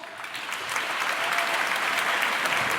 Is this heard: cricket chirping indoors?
no